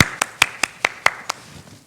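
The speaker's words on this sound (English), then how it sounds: "That is a great way we all want to wake up to applause." About seven sharp hand claps come at a steady, even pace, close and distinct, like a short burst of applause from a small number of hands, with no voices.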